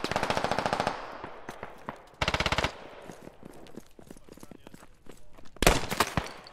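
Bursts of automatic gunfire from the video game Squad, with a long rapid burst at the start, another sharp volley midway, and a final loud burst near the end, separated by scattered distant shots.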